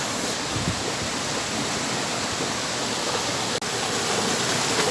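Water rushes over the Kalulu waterfalls in a dense, unbroken hiss that stays loud and even from start to finish, with no voices heard.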